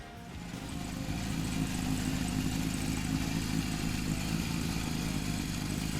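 A Honda CB750 motorcycle engine idles steadily, a low, even mechanical rumble held at constant loudness with no voices.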